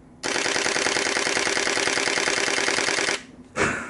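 A Nikon D500 camera shutter fires in continuous high mode from about six feet away, a rapid machine-gun-like burst lasting around three seconds, then a brief pause and the start of another short burst.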